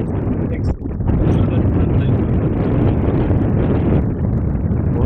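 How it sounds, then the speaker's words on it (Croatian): Strong wind buffets a catamaran out at sea in the rain, producing a loud, continuous blustery roar across the microphone with only a brief dip near the start. "Vjetar puše."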